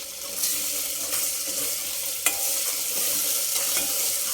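Ginger garlic paste frying in a pan while being stirred, a soft continuous sizzle broken by scraping spoon strokes and a sharp clink partway through, close and fairly quiet.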